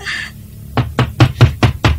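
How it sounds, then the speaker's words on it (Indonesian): Six firm knocks on a wooden door in a dramatized scene land close and loud in an even, insistent rhythm, following a brief faint sound at the start. "Aku sudah cukup keras mengetuk pintu."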